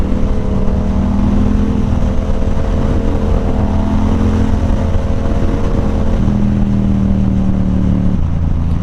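A Yamaha R7 sport motorcycle rides along on the street, its engine holding a loud steady drone with audible gear shifts that drop the pitch twice near the end.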